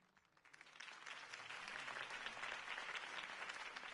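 Crowd applause after a mayoral campaign speech, a faint, steady wash of clapping that swells in and holds without voices.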